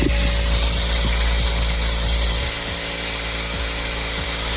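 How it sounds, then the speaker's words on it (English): An air compressor hisses loudly and steadily while bleeding the clutch on a Hyundai Veloster N, a constant close rushing noise with a low hum and faint clicks underneath and no talk. "I clamp it, open it, and I'm using the air compressor."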